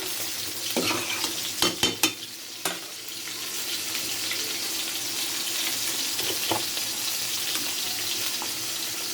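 Green chilies go into simmering dal with leafy greens, a steady close frying hiss running throughout while a few sharp clinks and scrapes of stirring come near the start and again faintly later; no talking.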